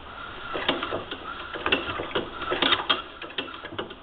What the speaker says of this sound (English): I'm going to turn the wheel backwards, and you'll see my feet move because the pedals are moving.